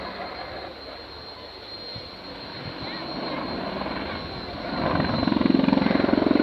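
An Apache helicopter's rotor chops and engine whines steadily in a flight simulation, growing louder and more pulsing as the 10-ton helicopter draws nearer, with a voice talking over it.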